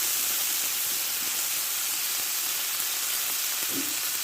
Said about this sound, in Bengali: আদা পেঁয়াজটা কষে নিয়েছি আমি টমেটোটা দিয়ে দেবো